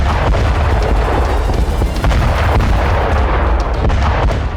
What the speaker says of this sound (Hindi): डोनेट्स्क के टोरेत्स्क में मौजूद रूसी बॉम्बर्स ने भीषण बमबारी की।